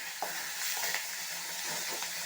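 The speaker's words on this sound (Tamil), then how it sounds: "தக்காளி வெங்காயம் வதங்கினதும் கருவேப்பிலை கொத்தமல்லி சேர்த்துடலாம்." Onion and tomato fry in a pan with a steady, close sizzle and occasional stirring scrapes, with no talking.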